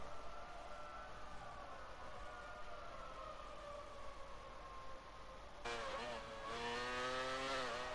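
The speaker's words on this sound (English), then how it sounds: "Loads of cars are on circuit right now." Race cars roar around the Austrian circuit in the racing video game Speed Force Racing, a sustained engine whine holding steady before a louder, rising engine sweep cuts in toward the end.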